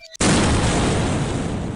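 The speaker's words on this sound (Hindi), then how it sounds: "और फिर एक धमाका।" A bomb blast from a Hindi comic story bursts in suddenly after a brief quiet moment, one loud, sustained roar that fills the whole range and fades only slightly.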